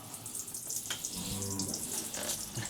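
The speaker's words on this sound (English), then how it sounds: "So we will do a similar thing now and take some temperatures of this shower." Water runs from a shower on a thermostatic shower valve, a steady splashing hiss close by with faint background knocks and a brief low hum.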